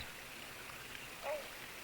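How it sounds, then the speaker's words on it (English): A waterfall in Great Britain flows steadily, giving a constant broad hiss and rush of falling water with no pauses. "Waterfall behind there."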